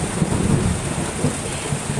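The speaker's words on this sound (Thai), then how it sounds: "ฟ้าร้องฟ้าร้อง" Steady heavy rain with a low, rumbling roll of thunder running underneath the whole stretch, no voices.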